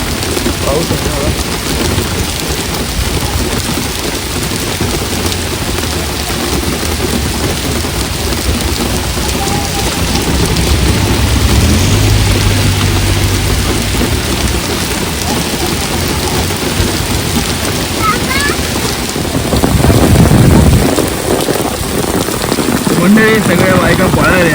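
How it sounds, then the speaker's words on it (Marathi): Heavy monsoon downpour in India drums steadily and loudly on surfaces throughout, with a deep rumble like thunder swelling near the end and faint voices mixed in. "पाऊस आहे ना."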